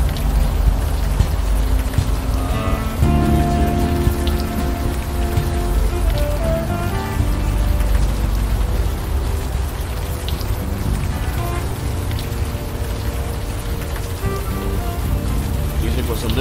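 Steady, dense rain pours without a break in the adventure game The Unavowed, with music playing underneath throughout.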